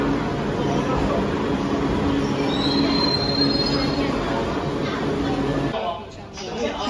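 Train wheels squeal in a long, high screech as a metro train runs through Beijing subway station, loud over a rumbling undercarriage, with people talking nearby.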